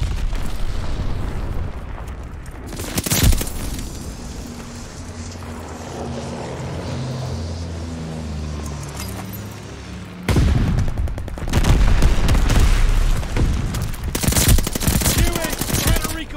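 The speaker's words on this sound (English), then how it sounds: "Friendly bombing run on the way." Bombing run in the video game Call of Duty Vanguard, with loud booming explosions and bursts of gunfire, a sustained roar of aircraft engines between the blasts, and heavy impacts returning toward the end.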